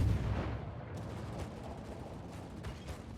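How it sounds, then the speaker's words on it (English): A battleship main battery firing in World of Warships, with the Gremyashchy in the battle: a heavy low boom at the start that decays into a rumbling tail, with fainter distant thuds after. "the battleship has opened up fire"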